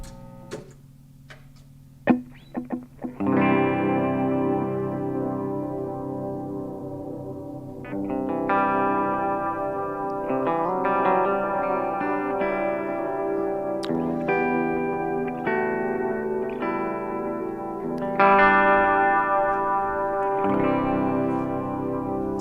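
A few faint clicks come first, then an electric guitar through a Meraki Analog Delay pedal plays moderately loud single notes and chords, each one trailed by repeating echoes that blur into the next phrase, with no voices.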